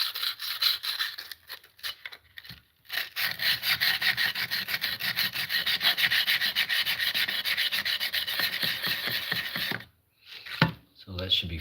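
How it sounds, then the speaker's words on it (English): A blade is worked against an abrasive in steady, continuous rubbing strokes to take off the burr from its back side, a close, fairly loud grinding scrape that stops briefly near the end. "First, I'm going to just cut off this little burr on the side."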